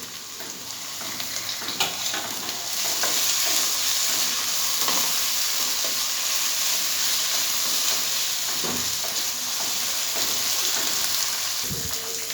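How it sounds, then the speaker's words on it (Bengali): A paste of ginger, green chili and cumin sizzles steadily in hot oil for an egg omelette curry, a constant close hiss with occasional stirring clinks. "মশলাটা ভাজা হয়ে গেছে।"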